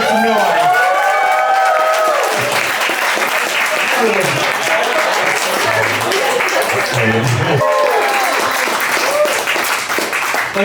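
A Reno comedy club audience bursts into loud cheering and sustained applause, a dense roar of clapping and whoops that fills the room while a voice talks over it.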